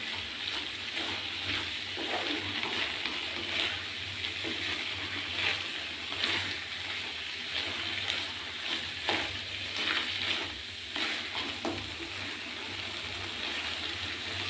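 Ash gourd and prawn thoran stirred and frying in hot oil, a steady close sizzle with scraping stir strokes throughout, no voices.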